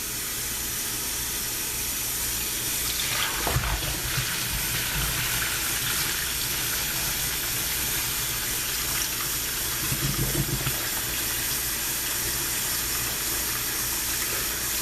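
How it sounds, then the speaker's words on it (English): Cool tap water runs steadily into a kitchen sink beside hot noodles being drained, a constant broad hiss with two brief heavier splashing surges partway through. "make sure you have some cool water running on the side to kind of cool things down"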